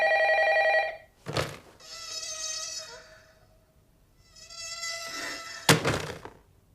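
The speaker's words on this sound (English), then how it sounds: "When the phone rings, we hear that repulsive sound." A warped, ethereal telephone ring from the horror film Ringu sounds in two eerie buzzing bursts, each closed by a sharp thunk, with near silence between them.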